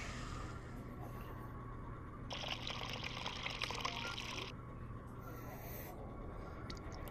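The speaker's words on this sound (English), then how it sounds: "Pour it out into a cup and then we can serve it." Tomato juice pours into a cup in the Job Simulator VR game, a soft splashing pour that swells in the middle for about two seconds over a quiet, steady background hum.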